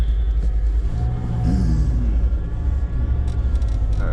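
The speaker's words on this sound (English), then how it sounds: "these kids with their loud vehicles squealing the tires a little bit here." Nearby vehicles rumble loudly in a parking lot, with a deep, continuous engine drone and faint rising revs, no talk over it.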